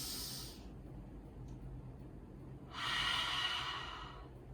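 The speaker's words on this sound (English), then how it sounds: "Deep breath in and out." A slow, deep breath in and out during a squeeze-and-release mindfulness exercise, heard as a soft airy exhale followed after a pause by a louder hissing breath, close and quiet with no talking.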